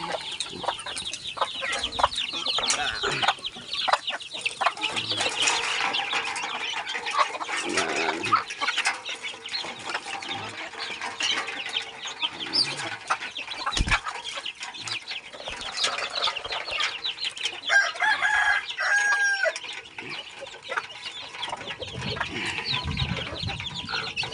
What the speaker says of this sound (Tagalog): Pagkain na tayo ng ating manok